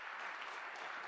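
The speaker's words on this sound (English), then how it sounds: "Will you help me just give God a hand clap of praise for our choir today?" A church congregation applauds the choir, a brief burst of many hands clapping together, dense and even, heard at a distance in a large worship space.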